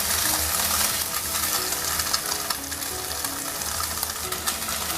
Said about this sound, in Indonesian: ini kita goreng, nggak usah terlalu ke kuning-kuningan ya